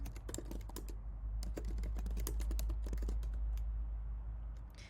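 Steady typing on a computer keyboard while a passphrase is entered, a dense run of quick close key clicks over a constant low hum, with no voices.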